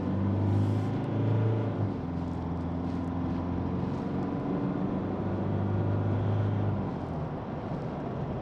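An Isuzu 4JJ1 diesel vehicle with a 6-speed automatic transmission accelerates hard, its engine a steady, close, droning rumble with tones shifting as it pulls through the gears, and no talk.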